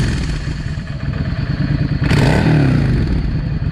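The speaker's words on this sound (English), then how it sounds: "Listen how this thing revs now." A Yamaha V Star 650 motorcycle engine revs close by after carburettor adjustment, its throttle blips rising and falling with a clattering mechanical edge and a sharp surge partway through.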